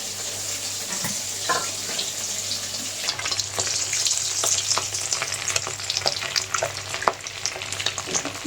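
Pieces of egg fry in a pan for a home-style egg curry. A soft, continuous sizzle plays close by with scattered clicks and light scraping, and grows a little busier partway through.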